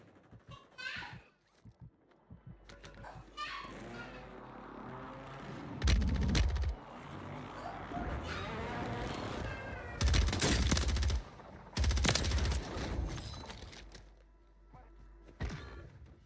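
Gunshots in a Warzone ranked match, several loud bursts of rapid fire in clusters, mixed with people talking and a cat meowing through much of the stretch.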